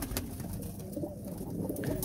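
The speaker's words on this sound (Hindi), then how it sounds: "ये देखें काफ़ी खूबसूरत पिजन है, ये जो सामने बैठा है नायाब पिजन है" Pigeons coo softly inside a desi pigeon house, low murmuring calls over a steady background hum, with no talk.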